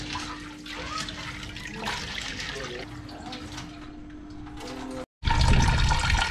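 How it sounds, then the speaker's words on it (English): Running water while peas are washed for a cooked meal, a steady close splashing rush throughout, broken by a brief cut before a louder burst of flowing water. "so after you wash your peas"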